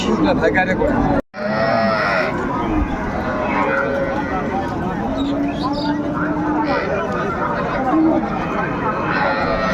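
Cattle, including Sahiwal cows, moo repeatedly amid a busy crowd, several drawn-out lowing calls rising over steady background chatter at a noisy livestock market in Raniganj, Dinajpur.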